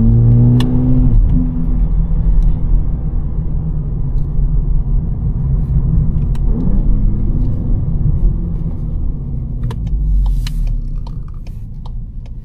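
A new VW Polo GTI with a 200 HP engine and 6-speed DSG drives through a neighborhood at night, its engine note heard from the cabin as a loud, steady rumble that rises and falls with a couple of upshifts and light ticks.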